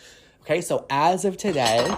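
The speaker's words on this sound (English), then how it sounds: "I had a fork next to me that just fell off my desk" A metal fork clatters sharply onto a hard surface, a brief clinking fall, followed by someone talking close by.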